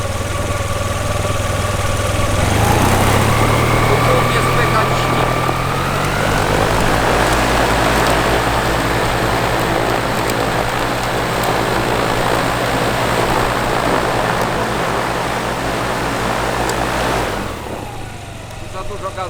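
Paramotor engine running loud and close, its droning pitch climbing as the throttle opens, holding steady at high revs, then dropping away abruptly near the end.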